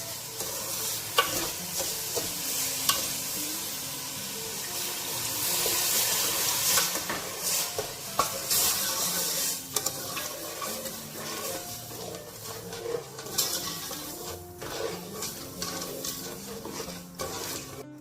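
Sugar and water are stirred in a pan and cooked into syrup for an almond sharbat. A spoon scrapes and swishes again and again over a soft, ongoing bubbling sizzle, all close and fairly quiet.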